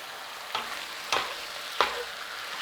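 Large meat chunks for a Guinness shepherd's pie stirred in an Instant Pot, a low sizzle broken by three distinct scraping turns spaced about half a second apart.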